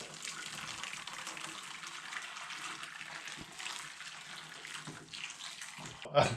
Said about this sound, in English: All right, so we got boiling water,